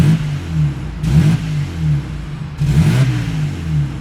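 A Ford Falcon EF XR6 inline-six with a light flywheel, fitted with a tuning chip, blips its revs twice inside the car, each sharp rise falling back quickly to a low, loud idle drone.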